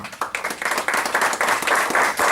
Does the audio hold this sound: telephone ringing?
no